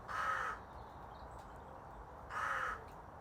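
Two loud, harsh crow caws ring out alone, separated by a quiet pause of about two seconds.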